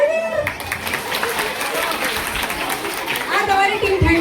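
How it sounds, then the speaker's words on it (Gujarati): Applause rises from a group gathering organised by the Shetrunjay Yuvak Mandal, a continuous rustle of many hands clapping mixed with voices talking over it, swelling slightly toward the end. "ભાઈ તાળી પાડી દે યાર"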